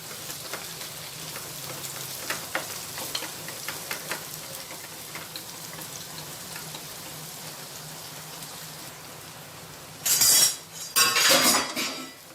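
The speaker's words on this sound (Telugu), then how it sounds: "సన్నగా కట్ చేసుకున్న ఉల్లిపాయల్ని వేసుకుందాము అలాగే కరివేపాకు వేసేసుకోవాలి వీటిని లైట్గా ఫ్రై చేసుకోవాలి" Thinly sliced onions and curry leaves fry in a pan with a soft, steady sizzle and scattered light clicks. Near the end come two loud bursts of crackling spatter.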